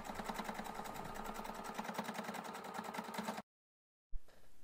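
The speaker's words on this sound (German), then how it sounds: "Ich beginne hier an der Seite und nähe dann einmal ringsherum bis zum Anfang der Naht, ein paar Stiche darüber hinweg und die Naht verriegeln." A sewing machine stitching around a seam, a fast steady rhythmic whir with even stitch pulses for several seconds before it stops abruptly, followed by a brief thump.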